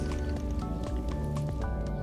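Water is scooped up in the Donut County game, a run of wet squishing and dripping blips over a steady low game background.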